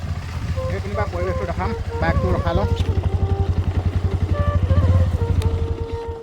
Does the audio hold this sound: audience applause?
no